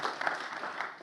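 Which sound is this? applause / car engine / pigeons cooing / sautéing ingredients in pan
applause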